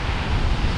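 Surf rolling onto the beach front of Karonsa Casapsapan resort in Casiguran, Aurora, on a Sunday afternoon, a steady broadband wash with wind rumble on the microphone and no voices.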